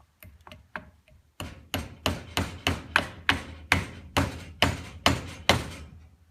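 A hammer strikes metal while tapping a part into place during a starter generator rebuild, a steady series of sharp, ringing taps, a few lighter ones first, then about a dozen firm, evenly spaced blows.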